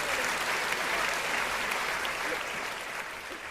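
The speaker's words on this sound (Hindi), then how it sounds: "एक बार जोरदार तालियों से आप स्वागत करिए।" Audience applause welcoming a guest at a Hindi comedy or poetry stage show, a steady dense wash of clapping that holds for several seconds and fades slightly toward the end.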